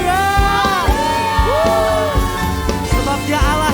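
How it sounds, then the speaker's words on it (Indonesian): A church congregation at a worship service erupts in loud overlapping cheers, whoops and shouted hallelujahs, a dense crowd roar with high voices rising and falling throughout. "Mari engkau yang merasakan kebaikan Tuhan, sorakan haleluya."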